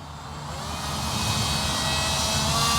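The small electric motor of a ready-to-fly RC paraglider hums at nearly no throttle, a steady whine that swells slightly and holds near the microphone with no talking.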